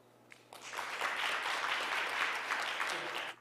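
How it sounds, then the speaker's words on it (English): Applause from a conference audience at an international food security symposium, a broad, steady wash of clapping that rises quickly, holds for about three seconds and then stops abruptly. "please give him a round of applause"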